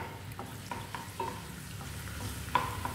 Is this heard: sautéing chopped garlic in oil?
yes